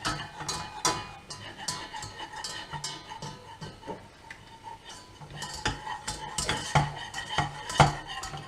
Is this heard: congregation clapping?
no